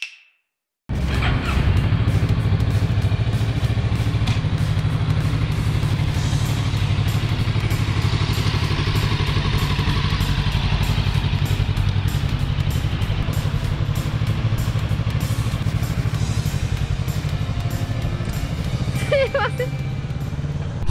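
A Kawasaki Z650RS motorcycle pulls away and rides on, its engine a steady close rumble under wind noise with scattered clicks and clatter, and someone speaking at times.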